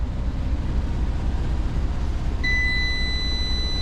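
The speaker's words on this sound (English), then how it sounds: "beeping because the battery is not connected" A rumbling mechanical drone runs throughout, then a high, steady electronic beep from a solar power device with its battery not connected starts partway through and holds to the end.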